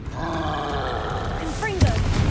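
A troll in the Hogwarts Legacy video game gives a short, deep roar with grunting, its growl falling and rising over a low background rumble before a sharp burst at the end.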